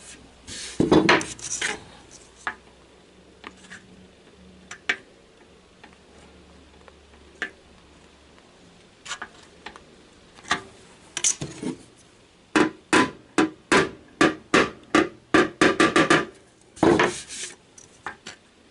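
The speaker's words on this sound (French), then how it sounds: "Je sais pas de taper fort, mais juste de renvoyer la bosse." A hammer taps out a dent in the rear bodywork of a Citroën Traction 11B, sparse and scattered at first, then a quick run of sharp, evenly spaced knocks close by, with no talking.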